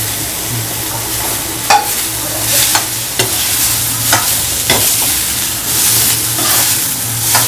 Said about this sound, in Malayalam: ഇതൊരു 2 മിനിറ്റ് വഴറ്റി കഴിഞ്ഞിട്ട്, ഒരു 2 മിനിറ്റ് വഴറ്റിയിട്ടുണ്ട്